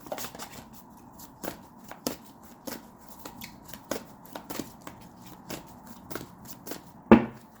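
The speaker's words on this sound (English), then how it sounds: "Let's pull a angel number card, and let's see." A deck of angel number oracle cards is shuffled by hand. Soft papery riffles and taps repeat at an uneven pace, quiet and close against a near-silent room, ending with one sharper snap of cards.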